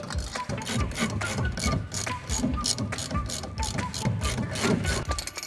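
Ratchet wrench working rusty bolts loose on a Land Rover Defender rear axle arm and rear shock, a rapid rhythmic clicking in repeated bursts, close and clear, with faint clanks of metal.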